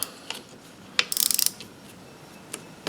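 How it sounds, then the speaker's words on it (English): A 1/4 inch ratchet works bolts loose on a Denso starter solenoid: a quick run of close, light metallic clicks with a few isolated ticks before and after, quiet and close-up, with no talking. "I'm using the 1/4 inch ratchet."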